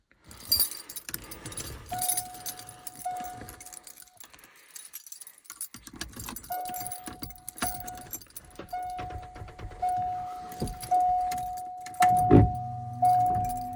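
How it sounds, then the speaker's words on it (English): Keys jangle and clink in several bursts against a quiet background, followed by a low mechanical hum and a few sharp clicks near the end, inside a 1991 Ford F-250 pickup. "Let's see my fucking keys here. I got like Rob the janitor keys"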